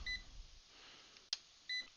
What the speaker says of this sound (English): You can hear beeping